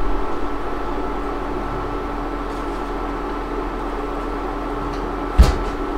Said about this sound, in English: Toss it in the oven, right on my pizza stone.